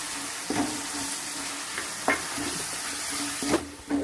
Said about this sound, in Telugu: కొంచెం పచ్చివాసన పోయేంత వరకు వేపుకున్నాము.